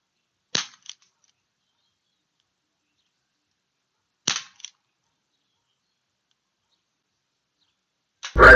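Makarov PM49 air pistol firing outdoors, two sharp dry pops each followed by a faint impact click, spaced a few seconds apart, with a louder thump at the very end.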